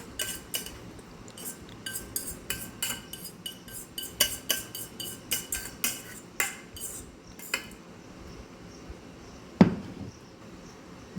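Flattened rice (chira) mixed with Kashmiri chilli powder, fried curry leaves, dried chilli and mustard seeds is stirred with a spoon in a bowl, a quick run of metallic clinks and scrapes, then quieter, ending in one louder knock.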